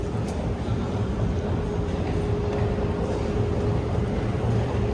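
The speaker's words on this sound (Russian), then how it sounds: "Смотрим на красивую станцию метро." A train rumbles through a metro station at Sennaya Ploshchad, a steady, loud roar of wheels and motor noise that holds evenly throughout with no talking.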